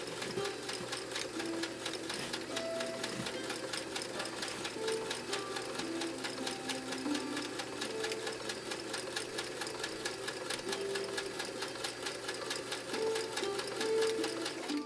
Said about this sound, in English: Almost sewing off the material there.